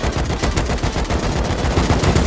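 Rapid gunfire in the video game Rust, loud and continuous bursts of shots filling the moment with no pauses.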